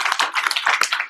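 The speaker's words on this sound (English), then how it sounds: "I'll give him a round of applause." An audience claps for Santa at a training event, a brief burst of dense, close applause.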